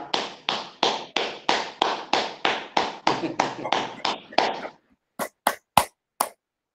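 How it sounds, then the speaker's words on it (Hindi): A yoga class claps in unison, a steady run of sharp, evenly spaced group claps at a brisk pace. After a short pause come four louder, crisper single claps. "आप सबके लिए तालियां।"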